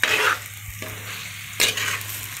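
Egg gravy for tomato egg rice is stirred in a sizzling pan, with a scraping stroke at the start and another near the end over a low, steady fry.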